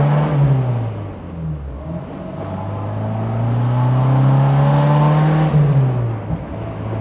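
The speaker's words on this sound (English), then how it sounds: "The owner, John, I would say he has optimized this exhaust" A 1987 Alfa Romeo Spider engine revs hard through its exhaust, a loud, rising and falling throaty roar that holds steady for several seconds.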